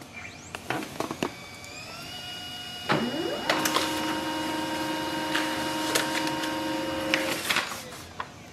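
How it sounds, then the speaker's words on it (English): A Pantum M6500NW series laser printer prints a page, clicking and whirring before settling into a steady mechanical hum with repeated sharp clicks and rattles, close and alone. "So it has successfully printed."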